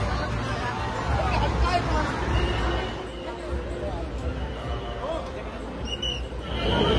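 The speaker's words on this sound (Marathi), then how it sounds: "आज चिंचपोकळीमध्ये जिथं बघाल तिथं आज गर्दीच गर्दी आहे, खाली वर" A dense crowd hubbub fills a street during the Chinchpokli Chintamani Ganpati arrival procession, a steady babble of many voices with occasional nearer calls and shouts throughout.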